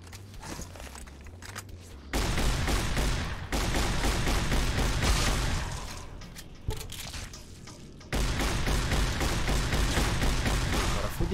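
Gunfire in the video game Fallout: New Vegas, dense bursts of shots and booming impacts that come in loud sustained stretches separated by quieter gaps, with someone talking faintly in places.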